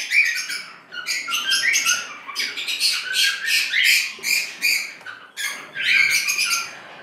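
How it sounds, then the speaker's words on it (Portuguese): Lovebirds (Agapornis) at their nest give repeated harsh, high-pitched squawks in quick bursts, close and loud with short gaps between calls. "Esse aqui é um casal de agapornis."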